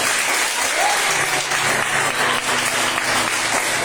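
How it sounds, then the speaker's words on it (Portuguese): Church congregation clapping together in praise during a sermon, a dense, loud and continuous burst of applause that fills the room without pause. "As palmas louvam ao Senhor."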